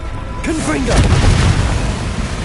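A Confringo fire spell explodes in Hogwarts Legacy as a loud, rumbling boom that swells after a brief whooshing cast and then sustains as a crackling roar.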